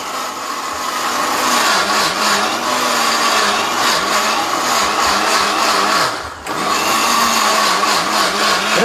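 A three-speed food processor with pulse function running loud and steady up close, a constant whirring motor drone that dips briefly once before resuming.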